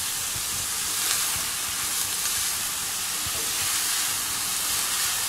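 Red onions frying in a pan, a steady, loud, hissing sizzle that fills the whole stretch, with faint low knocks of stirring beneath it and no voices.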